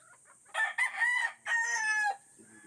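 A cockerel newly released into a range area crows once, loud and close, in a long broken cock-a-doodle-doo with a brief catch midway, over a quiet background.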